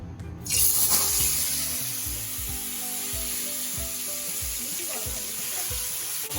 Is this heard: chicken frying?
yes